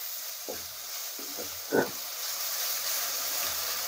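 Ginger garlic paste sautéing in a pan as the base of a mutton chukka, giving a soft, steady sizzle with a few brief stirring scrapes and one louder burst near the middle.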